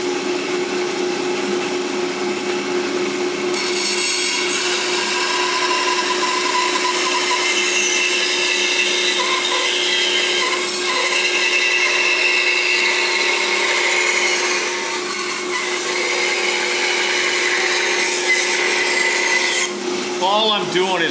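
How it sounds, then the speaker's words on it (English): A wooden Stratocaster-style guitar body is shaped and hogged out with a power tool, a loud continuous abrasive grinding and rubbing that runs steadily with slight swells throughout. "All I'm doing is hogging that out so I don't have to grind it off."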